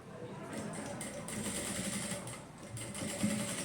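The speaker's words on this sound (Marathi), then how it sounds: "दोन्ही पण पानं आपल्याला 1 इंच अंतर ठेवून शिवून घ्यायचं आहे" Sewing machine stitching two fabric pieces for a handbag, running as a steady, close mechanical whir with a rapid needle rhythm throughout.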